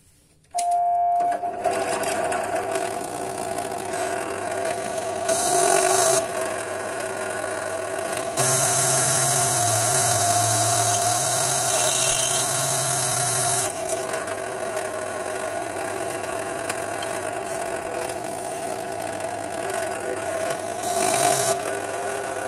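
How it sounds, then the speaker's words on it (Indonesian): A power drill bores into a homemade multifunction screen-printing tool, its motor whining steadily for most of the stretch with brief rises and drops in pitch as the bit works through the material. "Kita bor lagi."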